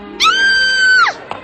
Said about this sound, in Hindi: ये चीखना चिल्लाना क्यों मचा है?